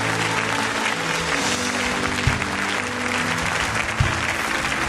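A church congregation applauds in a steady, dense wash of clapping that holds evenly throughout, with a couple of sharper claps standing out near the end.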